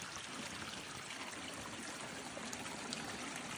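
Water from a waterfall splashes steadily into a koi pond, a continuous broad rushing trickle with no breaks, moderately quiet and unchanging throughout.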